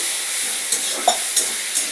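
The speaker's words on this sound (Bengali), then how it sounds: "এই যখন ভাজা চলছে" Banana flower curry with spices fries in a pan while being stirred. A steady, close sizzle is punctuated by a few brief scraping strokes of the spoon.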